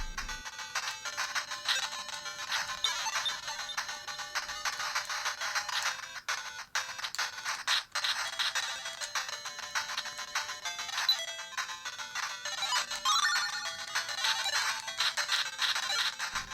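Bright, beepy chiptune music and effects from Shinobi played on a Game Gear emulator on a Q9 retro handheld, with constant melodic bleeps and small tinny speaker tone, no talk.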